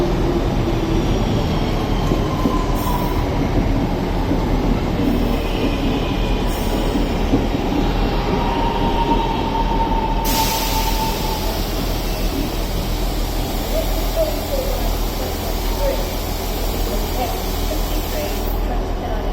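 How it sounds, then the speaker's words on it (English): A Northern passenger train pulls into Stockport station, its wheels and carriages rumbling steadily close by with occasional squeal and hiss, under intermittent background voices. "Coming in now is the 10:57 Northern Service to Stoke-on-Trent."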